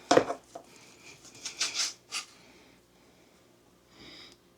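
Ribeye steak for steak and cheese subs is chopped on a cutting board: a handful of irregular scraping knife strokes and clacks, close and moderately loud, then a quieter scrape near the end.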